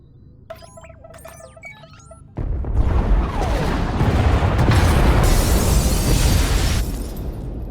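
Pod bays blown apart in the video game SWTOR: after a quiet stretch of electronic beeps, a sudden loud explosion erupts into a sustained, rumbling roar of crashing debris that slowly eases off; no talking.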